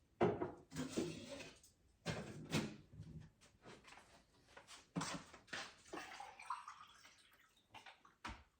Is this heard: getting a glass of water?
yes